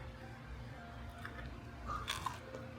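Crunchy food is bitten and chewed close by in a few crisp crunches toward the end, quiet over a low background hum.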